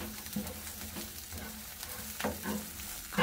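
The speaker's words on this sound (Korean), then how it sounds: "멸치 먼저 넣어서 기름에 멸치를 볶다가" Dried anchovies are stir-fried in oil in a heated pan, with a soft sizzle under repeated spatula scrapes and stirring strokes that come every half second or so, close up and without speech.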